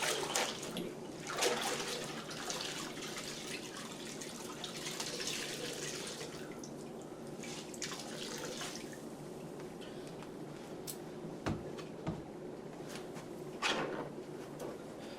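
Water runs from a tap while a floor is cleaned with pine oil concentrated cleaner and a mop, a steady broad hiss of flow with a few drips and small knocks.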